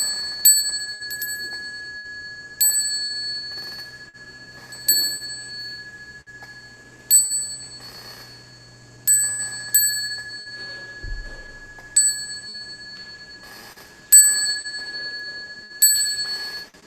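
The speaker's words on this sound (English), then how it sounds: "I'll ring the bell 3 times" A bell at a Buddhist monastery rings in a slow sequence of clear, bright strikes, each tone sustaining and fading before the next, heard alone and close with no talk.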